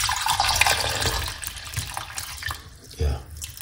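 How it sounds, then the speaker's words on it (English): Water pours from a tap into a sink over ingredients being washed for a home liver-cleanse recipe, a steady close splashing with a brief louder gush near the end. "pour some water."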